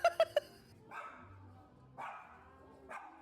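A puppy gives three quick, sharp yips at the start, close and loud, followed by quieter scattered background sounds.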